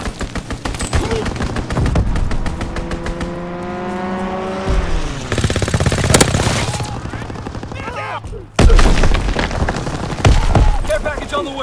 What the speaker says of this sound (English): Pilot inbound. Strafing the target.